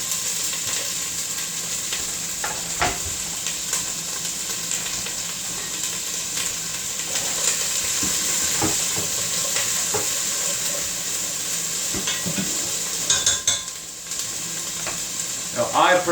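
Freshly chopped vegetables sizzle steadily in a hot frying pan while lasagna filling is cooked, a constant close hiss and crackle with occasional stirring and clatter against the pan.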